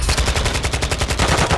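Rapid automatic gunfire in the video game Modern Warfare 2, a loud, continuous burst of evenly spaced shots with heavy low thump, close and alone.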